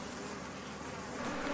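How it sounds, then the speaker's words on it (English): A swarm of killer bees buzzes in a steady, dense drone that stays loud and close throughout, with no voices. "Killer bees have a unique and chilling characteristic. They will relentlessly pursue fleeing victims."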